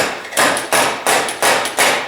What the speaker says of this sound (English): This is a slide hammer from a Powermatic.